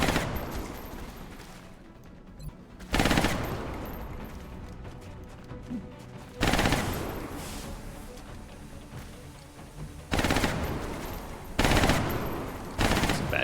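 Gunfire in XCOM: Enemy Unknown, with about five loud, separate bursts spaced a few seconds apart. Each burst ends in a long, fading echo and crashing tail.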